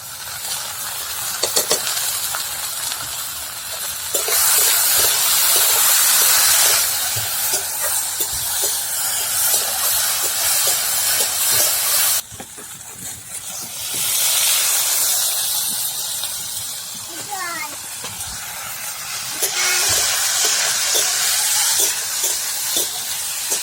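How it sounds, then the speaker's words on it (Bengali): Taro stolons (kochur loti) fry in hot oil with salt in a pan, giving off bursts of hissing sizzle that swell and fade repeatedly, with occasional stirring scrapes between them. "এখন কচুরলতিগুলো ভেজে নেব"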